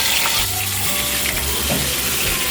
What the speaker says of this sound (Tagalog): Ipiprito natin ito na hindi naman pa crispy ha.